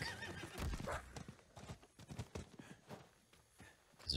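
A horse in the Diablo IV video game clip-clops along at a walking pace and gives a neigh, with close, irregular hoof strikes heard alone at modest volume.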